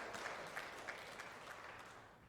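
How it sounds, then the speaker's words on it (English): A church congregation applauds at a Sunday celebration service, soft, distant clapping with a few rhythmic accents, faint and steady throughout. "that's worth clapping for"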